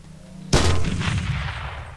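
A single loud gunshot bursts out in the top-down shooter Teleglitch, after a faint hum, and is followed by a rumbling decay that lingers for over a second, with no speech.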